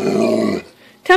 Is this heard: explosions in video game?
no